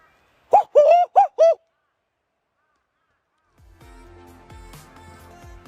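A voice imitates a bird call on a morning walk at Wangi Falls in Litchfield National Park, giving four short, clear, cooing hoots in a quick row, followed by quiet outdoor background noise.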